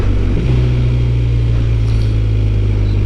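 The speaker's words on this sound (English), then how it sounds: "See that downshift, clutchless downshift into second and into first, quite smooth." A BMW motorcycle at a demo day in Austin, Texas makes a clutchless downshift into second and then first, its engine a loud, close, low rumble with a brief change in pitch early on.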